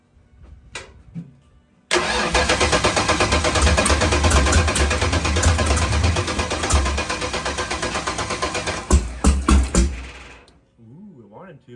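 A 363 small-block Ford V8 in a Foxbody Mustang cranks and fires up, then runs loud and rough with a choppy throbbing idle and throttle blips before shutting off, with brief voices at the start and end.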